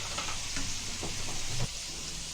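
Onions fry soft in a pan for a potato bhaji, making a steady hissing sizzle with a few short scraping stirs, close and moderately loud, no voices.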